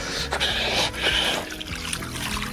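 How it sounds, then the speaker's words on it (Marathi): Water splashes and trickles unevenly onto the base of a coconut tree outdoors, a close, fairly loud pour with irregular surges and gurgles, no speech. "हे नारळा झाडाला पाणी."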